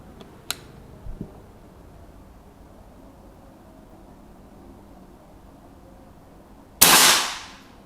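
A sharp air rifle shot cracks loudly near the end after several seconds of quiet background noise, preceded by a couple of faint clicks.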